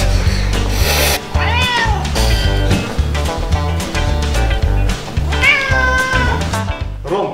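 A cat meows repeatedly and insistently for food, loud, close calls with rising and falling pitch, over rubbing and scraping noises and a steady low background.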